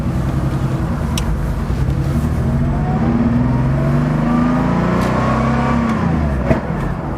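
A Porsche 3.2 Carrera engine running while the car drives, a continuous rumbling drone that rises gently in pitch under road noise, heard steadily throughout with no talking.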